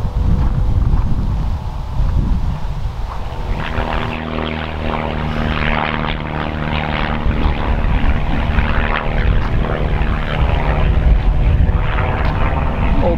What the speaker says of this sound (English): it's cool to see old airplanes and stuff flying